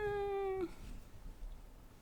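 A cat named Cosmo lets out a single clear, loud meow lasting about half a second, followed by quiet room noise.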